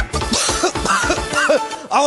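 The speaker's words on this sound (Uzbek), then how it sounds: "Asta asta yo'talib qo'yar" Someone coughs and clears their throat several times in quick, uneven bursts, with voiced, tonal sounds mixed in over a busy background.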